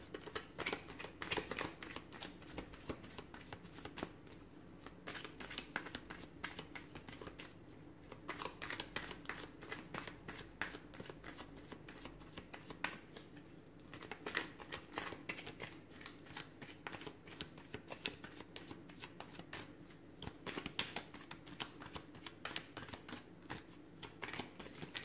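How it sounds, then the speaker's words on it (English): A deck of tarot cards is shuffled at close range, with quick riffling bursts and soft slaps of cards repeating in uneven runs and short pauses between them. "Give the cards a shuffle."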